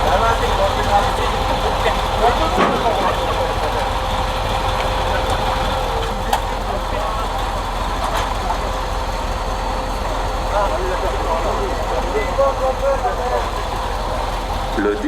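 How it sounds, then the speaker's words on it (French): A large diesel military truck engine idles with a steady low rumble throughout at an army transport regiment, with faint voices and occasional clanks in the background. "c'est ça le moteur"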